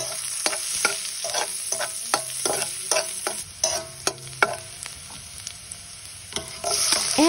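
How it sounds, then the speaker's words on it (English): Onion sauteing in a pan, sizzling under a run of sharp, regular spatula taps and stirs, close and fairly loud, with no speech. "Saute the onion"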